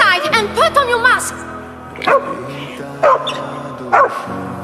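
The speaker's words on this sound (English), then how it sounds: "The dog is trying to warn us!" A small dog barks a warning in a village during a gas attack, opening with a rapid yipping flurry, then three single sharp barks spaced about a second apart, close and loud.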